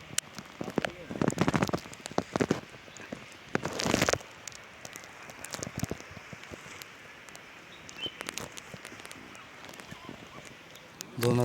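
Monsoon rain patters steadily on surfaces during a trek up Ratangad in the Sahyadri hills, close and crackly with louder splashy bursts near the start and faint movement sounds beneath.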